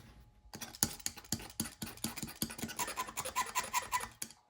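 A tool scrapes corrosion off a wire connector on a 1965 Chevelle wiring harness, giving a run of short, close rasping strokes in an uneven rhythm with no talking.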